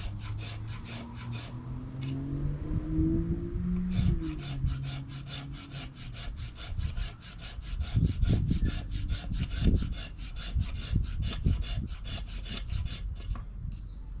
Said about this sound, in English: Start with the spine first, see what kind of shavings you get with the spine.